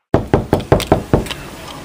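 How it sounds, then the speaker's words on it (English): Six firm knocks strike a door in a quick, even sequence, loud and close, each rap ringing briefly before the next, then fading into a quiet room. "Was that a knock at the door?"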